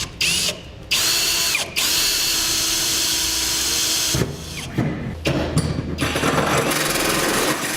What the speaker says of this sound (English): We're going to go ahead and make a pilot hole here, and then we'll step it up to the correct size for our hole saw.